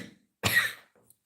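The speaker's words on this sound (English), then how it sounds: "See how heavy that cough is?" A single heavy, chesty cough bursts out close and loud, broadband and harsh for about half a second, then fades into quiet with a faint trailing throat sound.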